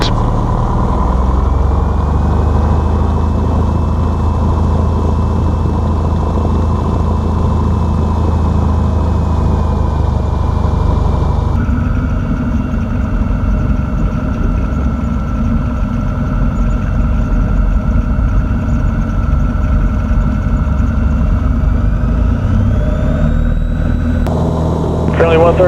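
A Cessna 182 engine drones steadily and loudly throughout a takeoff roll, with a deep, constant hum. The tone shifts partway through and climbs near the end. Radio voices talk faintly under the engine.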